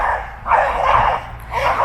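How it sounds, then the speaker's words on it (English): Two dogs, a pet and the neighbor's, bark back and forth at each other in bursts, one near and one farther off, trading yips and barks with short pauses between. "My dog and our neighbor's dog are barking at each other."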